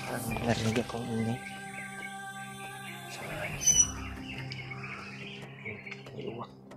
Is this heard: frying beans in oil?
no